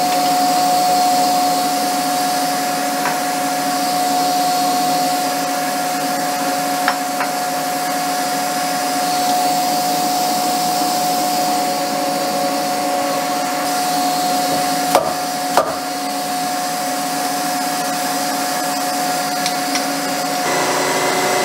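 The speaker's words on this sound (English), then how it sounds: "you can see that it's milling the teeth, which couldn't be milled with larger end mills" Morgan G-100T CNC mill cutting injection mold teeth with a small end mill, a steady high whine holding one sustained tone, with occasional faint clicks and no talking.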